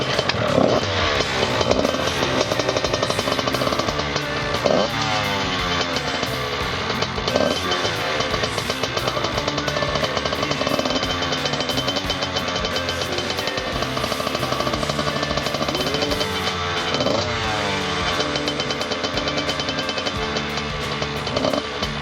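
A motocross bike's engine runs near and loud, a rough, rapid popping idle with repeated throttle blips rising and falling throughout, no talking.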